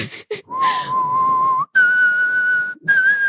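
A person whistles a bright, bouncy melody in clear, sustained notes with short breaks between phrases, loud and close.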